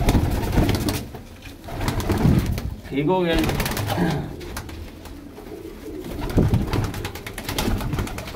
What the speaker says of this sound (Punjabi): ਆਹ ਵਿੱਚ ਚੀਨਾ ਕਬੂਤਰ।